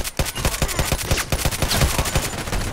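Rapid volleys of Glock 17 pistol gunfire in the shooter game Contract Wars, a dense run of roughly a dozen loud, sharp shots in quick succession with no pauses.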